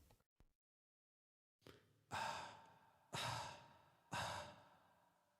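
Breathy exhales used as a production element in a song mix: three strong, evenly spaced sighing breaths follow a few brief soft ones and a pause, each close and loud with a slow fade.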